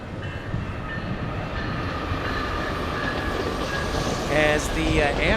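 A Coaster commuter train passes below with a steady rumble and rolling wheel noise, rising slightly in loudness, with a brief wheel squeal near the end.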